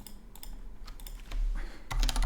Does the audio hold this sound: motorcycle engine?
no